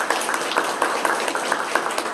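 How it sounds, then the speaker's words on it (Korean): Audience applause at a Korean seminar on apartment building facility maintenance, a steady wash of many hands clapping with scattered sharper claps, fairly close and filling the room. "여러분 환영의 박수 부탁드리겠습니다"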